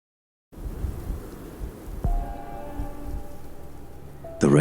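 A storm with steady rain and rumbling thunder, a sharp thunder crack partway through and a sudden loud burst near the end, no voices.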